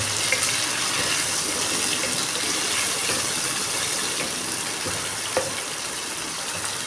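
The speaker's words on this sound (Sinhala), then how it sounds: "අපි හාල් ටික පරිප්පු ටික හොඳට සෝදලා පැත්තකින් තියාගන්නමු" Water splashes and trickles steadily as rice and lentils are rinsed for dal rice, a continuous close wet rushing with a few faint clinks, no voices.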